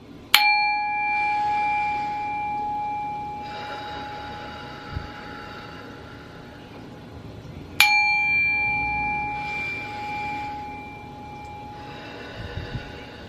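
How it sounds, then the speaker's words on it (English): A singing bowl is struck twice, each ring sharp at first and then sustaining a long, shimmering, slowly fading tone, the two strikes several seconds apart. "So we're gonna first ring the bell."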